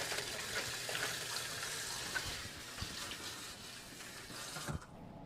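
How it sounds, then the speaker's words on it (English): Water runs steadily from a kitchen tap as a broad, close hiss with a few small knocks, stopping abruptly near the end. "Sorry for the water noise there."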